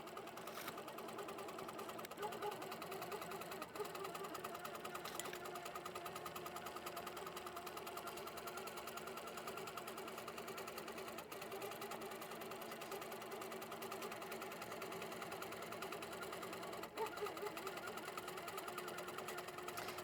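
An HQ Pro-Stitcher Classic computerized quilting machine stitching through quilt fabric, a continuous fast mechanical whir and rapid needle chatter holding steady throughout, close and even, with no voices.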